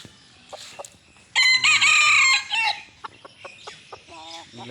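A wild junglefowl rooster crows loudly and close by, one long strained call, with scattered clucks and soft background noise before and after.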